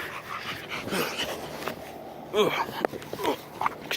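A male dog wrestling on a mattress, giving repeated whimpers, yips and panting in short bursts at close range, while someone talks between the sounds.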